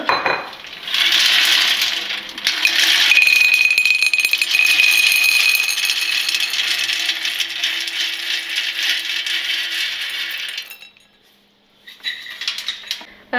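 Crispy fried homemade snacks are tipped into a bowl, producing a long, close, clattering rattle of hard pieces tumbling against the dish for several seconds, then a few lighter scattered clinks.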